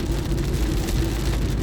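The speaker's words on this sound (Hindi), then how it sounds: "अब होने लगी बारिश।" Rain pattering steadily on a car during a drive on Karanja Road, a dense continuous wash of drops over low road and engine rumble, close and fairly loud with no voices.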